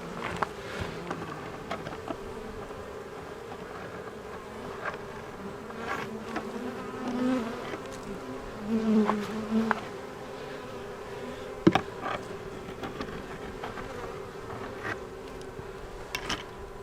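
Honey bees buzzing at a hive entrance, a constant close droning hum with individual bees passing near, plus a few light knocks of hive equipment.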